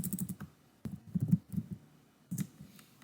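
Close-up typing on a computer keyboard, quick bursts of clicking keystrokes separated by short pauses, with no talking.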